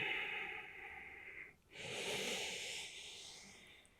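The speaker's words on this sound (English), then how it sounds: "And nice slow exhale." A slow, steady exhale during a yoga session, a soft breathy hiss that rises after a short pause and trails off gradually, close and quiet.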